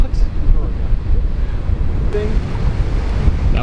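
Ocean surf breaking along a sandbar shore, a steady rolling wash with gusts of wind buffeting the microphone throughout.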